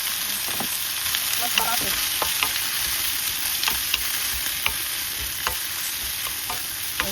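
Garlic and long beans fry in a pan with a steady, close hiss and intermittent scraping stir clicks, and no one speaks over it.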